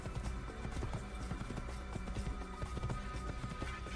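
Horse hooves clip-clop in a quick, rhythmic gallop during horseback riding in the Assassin's Creed video game, the steady footfalls continuous and fairly quiet with no talk over them.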